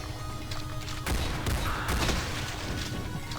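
A scrap gun fires in Doom 2 with sharp, loud bursts, a couple of cracking blasts standing out over a dense, noisy wash of gameplay action.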